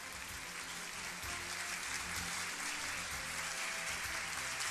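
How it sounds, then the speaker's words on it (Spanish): Applause at an awards ceremony for the visual arts, a dense, even wash of many hands clapping from a large crowd, steady and sustained without pause. "Un aplauso muy grande, por supuesto."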